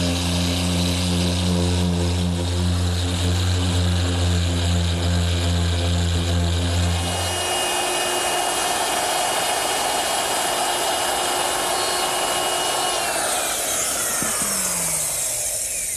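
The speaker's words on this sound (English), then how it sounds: "I'm using my random orbit sander to smooth up the edges of the tabletop" Random orbit sander smoothing the edges of a wooden tabletop, a loud continuous whirring drone with a strong low hum that shifts to a thinner, higher grinding whine partway through, running steadily without pause.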